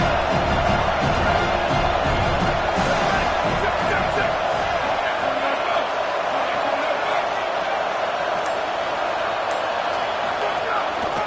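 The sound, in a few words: football stadium crowd noise cheering the defense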